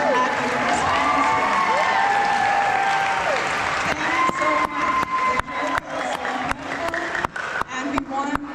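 Audience at a community culture show breaks into applause with cheering and shouting from a crowd including children, dense at first and then thinning into scattered claps.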